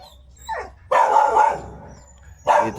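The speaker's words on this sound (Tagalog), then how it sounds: "nagkakagulo yung mga aso dito namin ngayon" Dogs bark loudly in bursts around a yard, some sharp yips among them, provoked by roaming male dogs drawn to caged females in heat; each outburst comes close and strong, with brief lulls between.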